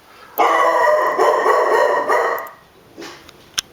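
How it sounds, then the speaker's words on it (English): A dog barks loudly and continuously for about two seconds, a dense volley of close barks, then fades with a couple of fainter yips. "the dog is barking like a mother"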